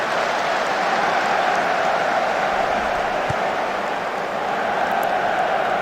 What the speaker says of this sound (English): Now the fans are cheering the passes.